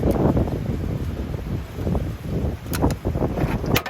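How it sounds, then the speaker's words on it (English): Wind buffets a microphone outdoors beside a 1959 Corvette during engine work, a loud, rumbling, gusting roar that pulses unevenly for several seconds. "Fight the wind."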